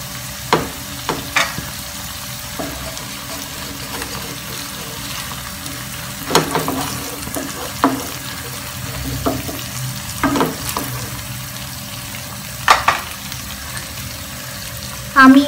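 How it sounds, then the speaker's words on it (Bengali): Pabda fish curry cooks in a pan on medium heat with a few green chillies added, giving a soft, low simmering sizzle broken by intermittent utensil clinks and scrapes. "হিটটা মিডিয়ামে রেখে 10 মিনিটের জন্য রান্না করব।"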